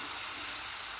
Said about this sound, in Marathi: एक पळी बॅटर घेऊन असं तव्यावरती